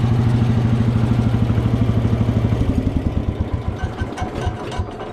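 A small engine, likely a vintage 106 or 107 machine, idles after being woken from winter storage, a steady close putter with an even firing pulse that turns slightly rougher and more irregular toward the end.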